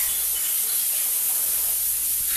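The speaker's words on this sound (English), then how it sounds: "That's a can of spray brake cleaner that I'm using to hose off the chainsaw." Brake cleaner hisses out of an aerosol can onto a chainsaw in one continuous, close, bright spray lasting a couple of seconds.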